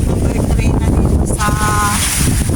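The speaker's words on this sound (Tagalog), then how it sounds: "lumakas ang hangin hanggang ngayon" Loud, roaring gusts of super typhoon wind during Typhoon Leon (Kong-rey) near Calayan Island, Philippines, buffet the microphone, with a brief faint whistling tone partway through.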